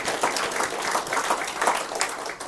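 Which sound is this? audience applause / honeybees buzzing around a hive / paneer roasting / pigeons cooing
audience applause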